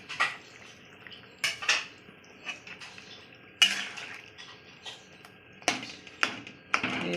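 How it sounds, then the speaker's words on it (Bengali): Clanks and scrapes of a utensil against a pan as tomatoes go into cooking eggplant and potato for a fish curry, several sharp close knocks spread irregularly with quiet gaps between them. "এবার আমি এই যে টমেটো দিয়ে দিচ্ছি।"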